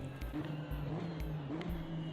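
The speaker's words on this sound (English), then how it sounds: "external exhaust notes on this car, especially through gear change" A racing car's exhaust in a sim racing game hums steadily from an external view, with regular pulsing surges that suggest gear changes, heard alone without talk.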